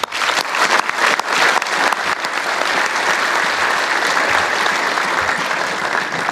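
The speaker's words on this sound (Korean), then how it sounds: "격려의 박수를 보냅니다." A large crowd applauds at the combined commissioning ceremony of South Korea's army, navy and air force academies, a loud, sustained burst of clapping from many hands filling a big venue.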